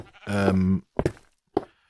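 Sheep bleat in the video game RealmCraft VR: one long wavering bleat followed by two short clipped bleats, close and clear against silence.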